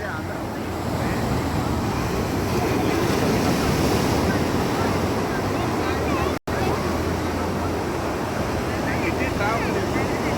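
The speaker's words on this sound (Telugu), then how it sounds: "అలలు వస్తున్నాయి పెద్ద పెద్దవి." Big sea waves rolling in on a beach, a loud, continuous surf roar mixed with wind buffeting the microphone, with a voice talking over it and a brief dropout near the middle.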